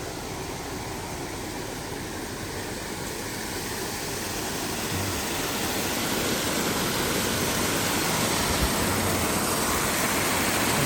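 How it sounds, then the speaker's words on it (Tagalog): A waterfall in Maruike Park, Shimizu, roars in a dense, steady rush of water that grows slightly louder over time, with no voices. "Ito, nagtubig. Malinaw. May falls."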